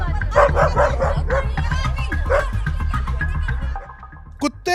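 A dog barking repeatedly in an outdoor residential dispute, loud rhythmic barks and yips close by, mixed with agitated voices before a brief pause and one more bark.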